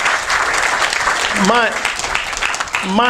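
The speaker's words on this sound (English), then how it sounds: "let's start with a big round of applause for our graduates there" Dense clapping from a crowd at a graduation ceremony fills the clip, loud and sustained, while a voice briefly calls out over it.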